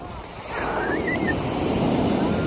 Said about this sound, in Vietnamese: Sóng cũng dữ lắm nha, hôm nay sóng dữ nha.